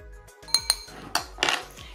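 Salt and chopped chives being stirred in a kitchen bowl, with a few sharp clinks of a utensil against the dish among softer scraping and shuffling, close and fairly quiet, no talking.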